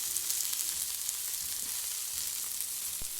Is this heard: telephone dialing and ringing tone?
no